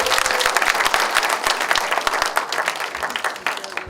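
Audience applause fills the hall at the opening of a public lecture in Geoje, a dense, steady clapping crowd sustained throughout at close range, with no talk over it.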